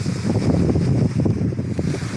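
Cool sea wind blows at Saengchan beach, buffeting the microphone with a loud, continuous rushing roar and no voices.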